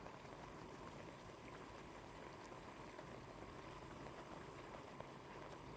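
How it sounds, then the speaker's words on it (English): Bacon sizzles in a pan on a small camping gas stove outdoors, a steady dense crackle and hiss with faint pops, quiet and unbroken with no talking. "Bacon sizzling away there on the wee gas stove."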